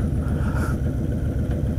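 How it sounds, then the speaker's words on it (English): A motorcycle fitted with twin Cobra straight-through exhausts idles with a deep, lumpy burble, steady and close, with no speech over it. "got the twin Cobra exhaust, straight through exhausts"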